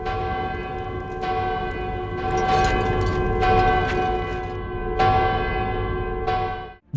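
A large bell rings repeatedly in loud, sustained strokes with long ringing tails, signalling a ceasefire across the Kansar region, several strikes spread over the span.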